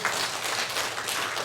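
A church congregation claps during a healing ministry service, a brief, even burst of applause from many people, fairly loud and close from start to finish.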